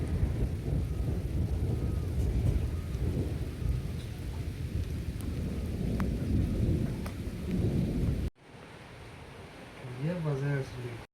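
Thunderstorm with heavy rain and strong wind in a hill village, a steady roar of rain with rumbling thunder, then a quieter stretch with faint rain.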